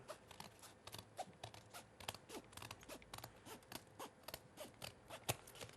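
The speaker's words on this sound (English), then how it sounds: "you can hear those scissors working" Rapid rhythmic snipping of heavy-duty scissors cutting through layers of card, many crisp clicks in quick succession, close and fairly quiet.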